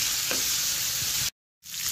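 Chicken pieces fry steadily in a pan for paratha rolls, giving a dense, even sizzle close by that cuts out abruptly for a moment before resuming.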